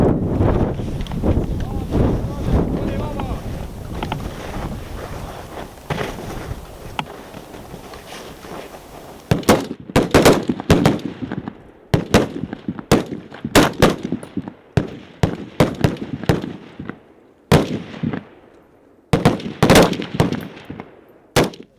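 Rifle gunshots crack across an outdoor shooting range at an Estonian Defence League exercise, first in a dense rapid volley, then as loud separate shots at irregular intervals, with wind noise on the microphone and voices calling out commands.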